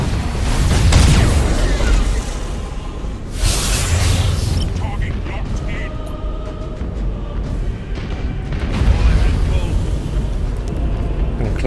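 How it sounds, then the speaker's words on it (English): A Nova Cannon shot in the Battlefleet Gothic space strategy game fires with a deep rumbling boom, followed by further heavy explosions and rumbles under a dense battle din, with a voice speaking over it. "Get a Nova Cannon shot on him"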